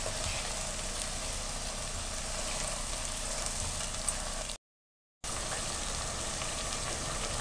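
Food frying in a pan for an Asian-style Spanish omelette, a steady dense sizzle and hiss heard close and alone, interrupted by a short silent gap before resuming.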